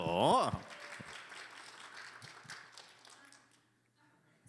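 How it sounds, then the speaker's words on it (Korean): A church youth congregation breaks into brief, moderate applause that tapers off toward silence, following a short burst of voices at the start. "박수"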